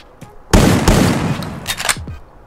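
Gunfire from a gun in the Free Fire Max mobile game: a loud burst of rapid shots with a sharp onset, then a few scattered follow-up cracks and a trailing clatter, heard alone with no talking.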